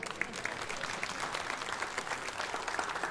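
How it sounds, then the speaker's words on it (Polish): Concert audience applause at a Silesian hit-song show, a dense, even wash of many hands clapping heard from within the hall and continuing steadily throughout without voices on top. "Dziękuję za brawa"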